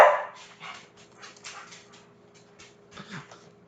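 A pet dog barks indoors in a string of soft, fairly distant barks and yips at an uneven pace, with no speech over it.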